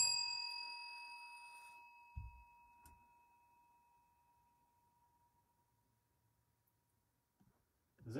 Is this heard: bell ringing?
yes